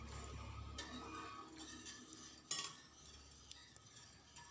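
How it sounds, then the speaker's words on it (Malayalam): Payasam being stirred in a pot, soft scraping and occasional clinks of a spoon against metal, quiet and close, with a low background hum. "അങ്ങനെ നന്നായിട്ട് കൈ വിടാണ്ട് ഇളക്കിക്കൊണ്ട് നിൽക്കുകയാണ് ഞാൻ."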